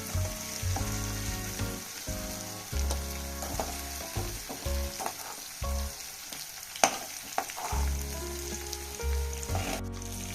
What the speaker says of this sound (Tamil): கொஞ்சம் அப்படியே வறுக்கலாங்க. கொஞ்சம் நல்லா மொறுமொறுன்னு ஆகட்டும்.